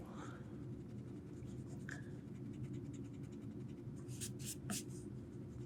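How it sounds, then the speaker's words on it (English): An eraser rubs over a pencil drawing of a nose on paper, giving soft, faint scratchy strokes in short bursts, with a few brisker rubs near the end. "so I'm going to erase that part."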